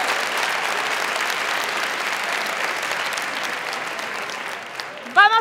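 A gala audience at the final of a most-beautiful-village contest breaks into sustained applause, broad and steady clapping that carries on until a voice cuts in near the end.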